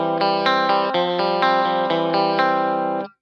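An electric guitar played through a Kemper profile of a Deluxe Reverb amp tone stack rings out in a run of steady, evenly spaced chords, loud and alone, then cuts off abruptly after about three seconds.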